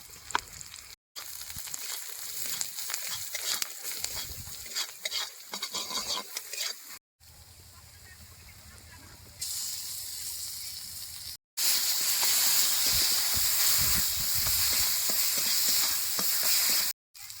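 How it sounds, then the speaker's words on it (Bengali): Onions with salt, turmeric and ground spice paste are stir-fried for egg malai curry, giving a steady loud sizzle and hiss with spatula scrapes, broken by several abrupt cuts between sections. "বাটা মশলাটা দিয়ে সুন্দর করে আবার কষানো হয়ে গেছে"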